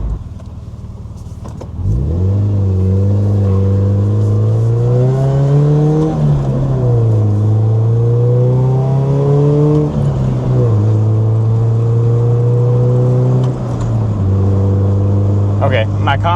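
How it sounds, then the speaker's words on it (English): A 1996 Nissan 240SX drives steadily, its engine note loud and close, rising and falling through gear changes with a sustained drone throughout. "It is actually driving pretty good. I mean, it is a 1996."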